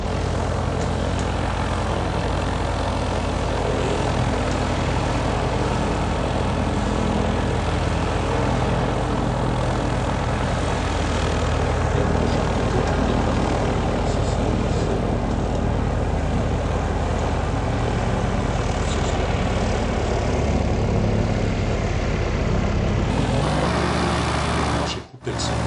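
Steady, droning propeller-airplane engine from a Unity3D flight game, loud and unchanging for about twenty-five seconds before cutting off abruptly near the end.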